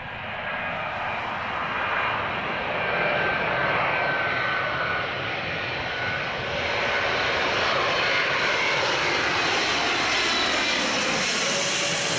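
A fixed-wing aircraft at Heathrow Airport roars steadily and loudly for the whole stretch, with the engine noise swelling slightly as it passes, alone with no voices.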